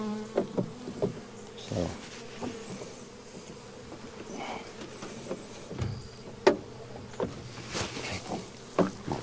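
A swarm of honey bees flies around a hive in late July, a steady close buzzing with occasional louder passes as individual bees fly near.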